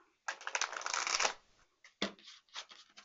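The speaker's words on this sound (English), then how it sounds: "I'm just gonna shuffle it backwards again" Tarot cards are riffled and shuffled in one long rustling burst, followed by several shorter shuffling bursts, close and quiet.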